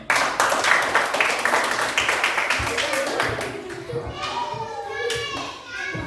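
A class of fifth-grade primary school children claps together in a classroom, a dense patter of many hands that gradually thins. Children's voices chatter and call out over the clapping toward the end.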